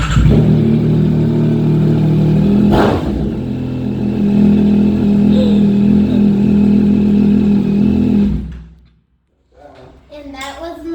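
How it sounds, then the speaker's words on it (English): A loud motorcycle engine runs steadily at close range, revving and holding a strong hum for about eight seconds before cutting out abruptly, followed by brief voices. "This is the motorcycle. It's pretty loud, guys."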